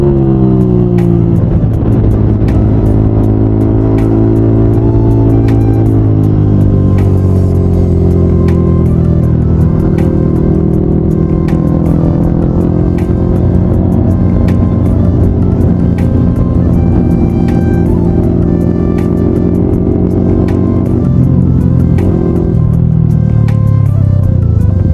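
A motorcycle engine revs hard during wheelie stunts on the road, a loud, continuous buzzing drone whose pitch rises and falls in long sweeps, close to the rider and steady throughout.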